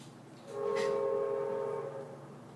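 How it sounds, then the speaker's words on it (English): A train horn sounds in a single sustained blast from a passing railroad engine, steady harmonic tones holding for about a second and a half before fading, fairly loud and with no talking over it. "The engineers have been very creative with their whistling today."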